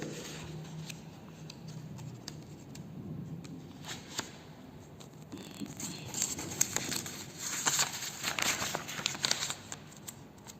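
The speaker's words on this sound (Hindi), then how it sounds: "next page पलटिए" Paper crinkles and shuffles as a book page is turned, a soft rustling that builds toward a few louder crisp rustles near the end, close by with no talking.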